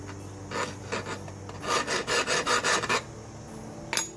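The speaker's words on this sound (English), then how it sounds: "So we're gonna do the file test. So we're gonna do the tip right here. Like, listen to the sound." A metal file rasps across the tip of an unhardened steel shuriken in a handful of short strokes, then a quick run of about six rhythmic, gritty scrapes, close and clear, with a final brief scrape after a pause.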